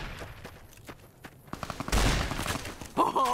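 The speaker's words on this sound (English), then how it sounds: "Oh, we're under fire!" Firefight gunfire in Fallout New Vegas between Brotherhood of Steel and Jaguar gang fighters, quick faint shots and footsteps giving way to a louder, dense burst of fire and a rising tonal game effect at the end.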